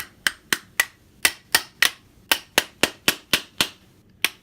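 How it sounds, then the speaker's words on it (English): A hammer taps a flathead screwdriver over and over to separate the factory buttstock from a Century Arms AK47. About sixteen sharp metallic strikes land in an uneven rhythm, loud and close, with no talking. "Take your handy dandy hammer and you're just going to tap it."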